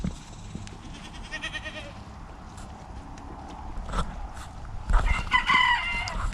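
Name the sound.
goats and chickens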